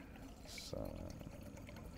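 Water is poured into a roughly 20-ounce cup at a winter campsite. A close, steady liquid stream starts partway through and continues as a splashing trickle to the end.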